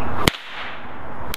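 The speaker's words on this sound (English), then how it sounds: "contrary to popular belief, these things actually can crack pretty loud" Two sharp, loud cracks from a paracord snake whip, one near the start and another near the end, each a sudden broadband snap separated by a second of quiet room tone.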